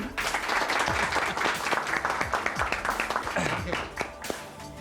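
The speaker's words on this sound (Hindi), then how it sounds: "तालियां" Applause from an office audience at a staff gathering honoring a top-performing employee, a steady wash of many hands clapping that fills the room, with some chatter mixed in and a slight fade near the end.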